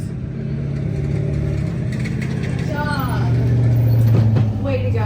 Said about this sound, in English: We got a truck coming in right behind us.